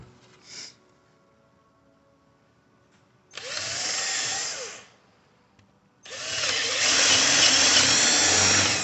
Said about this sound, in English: So now I'm making the holes for the bolts.